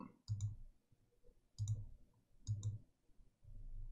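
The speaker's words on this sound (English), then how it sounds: "all you have to do is left click on a point and then drag it to its new position" A computer mouse clicks at the desk in four short, sharp bursts spaced about a second apart, each made of a couple of quick clicks over a low room hum, with no voices.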